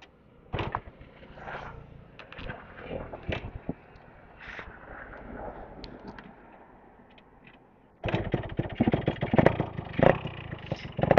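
A motorcycle running Castrol A747 oil, its engine very hot, is revved with throttle blips at a moderate distance, then a louder, rougher stretch of revving takes over near the end.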